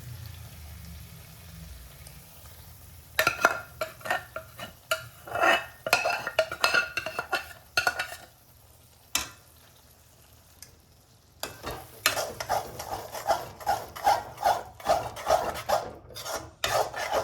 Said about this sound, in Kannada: ನಾನು ಆಗಲೇ ಬೇಯಿಸ್ಕೊ ಇಟ್ಕೊಂಡಿರುವಂತಹ ದಾಲನ್ನು ಆ್ಯಡ್ ಮಾಡ್ತಾ ಇದ್ದೀನಿ.